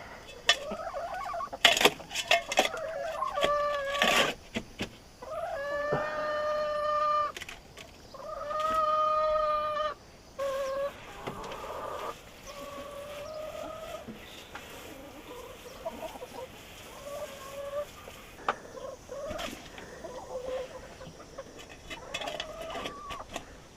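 Backyard chickens clucking and calling in a coop, several bursts of harmonic clucks and squawks at close range, with scattered knocks and rustling of coop cleaning around them.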